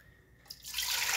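Water for cooking Michoacán-style morisqueta rice starts as a faint trickle, then swells into a steady close pour filling a container, with no speech.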